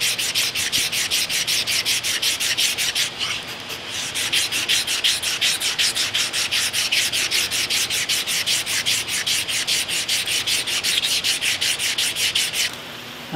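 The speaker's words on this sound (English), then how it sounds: "I'm having to go over it just with this India stone" Steady back-and-forth rasping of an India sharpening stone with lantern fluid rubbing on the metal of a K&T mill, in even rapid strokes with a brief pause near the start and a drop at the end.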